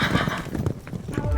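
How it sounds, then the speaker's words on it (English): Sound effect of horses and chariots in a stage play: a continuous busy rumble of hooves and wheels, with horses whinnying over the clatter, fairly loud and dense throughout, with no talk. "You hear the sound of horses and chariots in the background."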